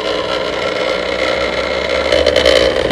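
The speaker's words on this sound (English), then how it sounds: "You can hopefully hear that motor working" The small electric motor of a Nerf Soldier 76 blaster with a modular rocket launcher spins steadily, a continuous close whir that swells a little toward the end.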